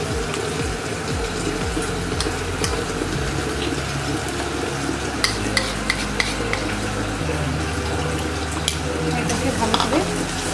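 A paste of melon seeds, cashews and poppy seeds sizzles loudly in oil for a katla fish rezala, with continuous frying hiss and repeated stirring scrapes close by throughout.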